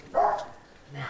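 A dog gives a single short, close bark followed by a quieter low sound, in a quiet indoor setting.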